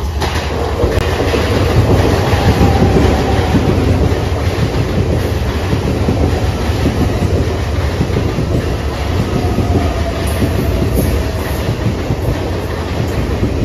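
A train rumbles steadily past a railway platform at close range, a dense continuous roar with rhythmic wheel clatter and no voices.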